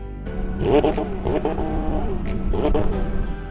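A McLaren 720S with a turbocharged engine is revved in a couple of throaty bursts that rise and fall, fairly close, with a faint background murmur between the revs.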